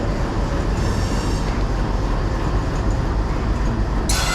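A WDM 3A diesel shunting locomotive at a station gives a steady, broad engine and rail rumble throughout, with a brighter hiss rising near the end.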